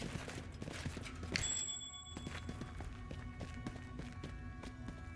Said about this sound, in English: What is that footstep sound from?